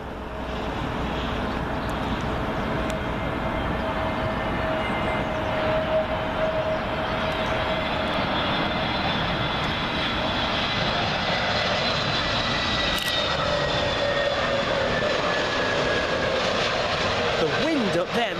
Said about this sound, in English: British Airways A320neo, and this one comes in from Hanover